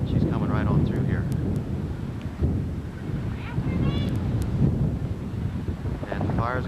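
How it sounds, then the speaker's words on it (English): Strong wind roars steadily through the microphone during the 1988 Mix Canyon wildfire, a loud continuous gusty rush with a voice talking over it. "the wind's blowing this way"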